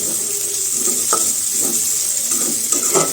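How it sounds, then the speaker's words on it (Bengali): Chopped onions frying in oil seasoned with whole cumin seeds, a steady close sizzle with occasional stirring scrapes throughout. "একবারে বেরেস্তার মতন করে ভাজবো"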